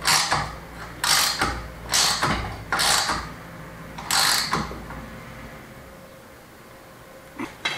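Loud, close ratchet strokes come in about five rhythmic bursts with pauses between them as brackets are bolted onto a solar panel for an outdoor bar, then the clicking stops and a quiet stretch follows.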